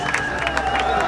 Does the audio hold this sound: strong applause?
yes